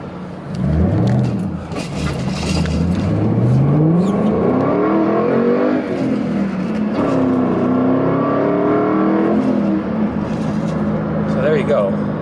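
A 2005 Ford Mustang GT with a 5-speed manual accelerating hard, its engine note rising through the gears with pitch climbing and dropping at each shift, loud and close from inside the car, with a voice talking over it.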